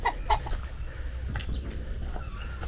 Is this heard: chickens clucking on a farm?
yes